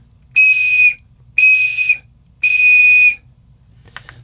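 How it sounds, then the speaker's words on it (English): A basic, entry-level survival whistle blown three times in long, piercing shrill blasts, each lasting over half a second with short pauses between, loud and close, followed by a faint brief rustle. "if I was to take the whistle and just blow it, and this is the least quality whistle here, so the basic whistle"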